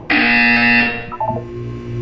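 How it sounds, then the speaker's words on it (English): A loud, harsh electronic buzzer from the Portal 2 video game blares for about a second, then fades into softer tones and a low hum. "You will hear a buzzer."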